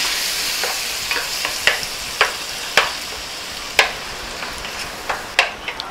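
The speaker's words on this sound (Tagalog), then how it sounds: "medyo gisang-gisa na yung ating sibuyas at kamatis" Onions and tomatoes sauté in a pan, giving a continuous sizzle broken by regular scraping strokes of a spatula, close and fairly loud, with no voices.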